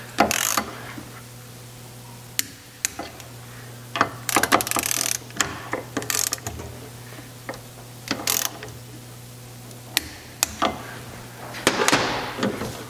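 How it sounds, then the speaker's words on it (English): A ratchet or torque wrench tightens the connecting rod bolts of an air-cooled Porsche engine, with the rod held in a vise. Scattered sharp clicks and short ratcheting bursts stand out close by over a low, steady hum. "we need to tighten the connecting rod bolts up to their specified torque"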